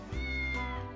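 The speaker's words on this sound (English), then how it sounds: "That's a cat." A cat meows inside the video game Triangle Strategy, a single drawn-out, clear meow heard close and alone.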